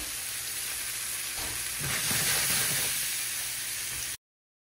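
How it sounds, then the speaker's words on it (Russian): Vegetables sizzle as they fry together in a pan over high heat, a steady bright hiss that swells a little midway, with no talking. "Овощную эту нашу сатэ-баганду мы отправляем сразу на сковородку вместе жариться на сильном огне."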